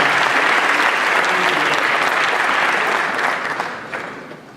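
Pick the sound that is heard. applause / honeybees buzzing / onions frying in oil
applause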